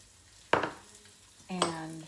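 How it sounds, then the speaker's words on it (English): Quarter of an onion dropped into hot bacon grease and butter to saute, two quick loud sizzling bursts as pieces hit the pan, each hissing and fading, close up and alone. "I'm going to saute 1/4 of an onion"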